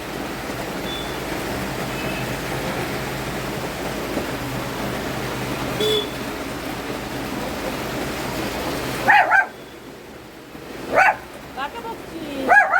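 A dog barks a few times nearby, with short sharp bursts near the end after a long stretch of steady rain noise.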